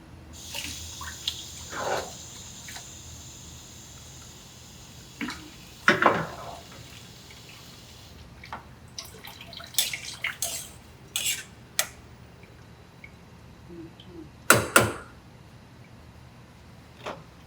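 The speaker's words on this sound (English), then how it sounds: "I think the rice needs a little bit of water." Water added to a pot of rice cooking in a kitchen, with scattered clinks of a pot and utensils, brief splashes and trickles against quiet background, no talking.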